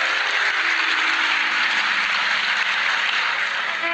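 A festival audience claps steadily at a Govardhan Puja gathering, a dense, continuous wash of applause that stays loud and unbroken throughout, with no talk over it.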